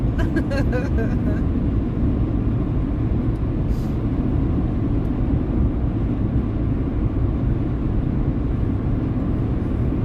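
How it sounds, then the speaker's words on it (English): An old car drives with a steady, loud, low rumble of engine and road noise that holds for the whole stretch without easing. "this car makes a lot of funny noises and it does a lot of funny things"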